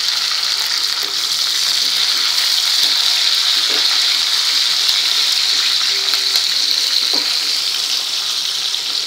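Chili and curry leaves sizzle in hot oil for a Maharashtrian okra stir-fry, a steady, loud hiss of frying that runs without a break, with a few faint clinks and stirring sounds underneath.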